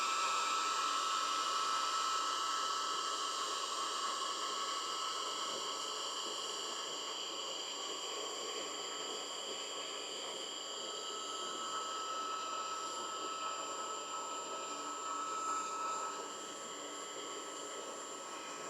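A heat gun or hair dryer blows a steady, fairly loud broadband hiss while warming a sticker on a BMW R1300 GS motorcycle fender extender, continuous throughout and easing slightly quieter near the end, with no talking.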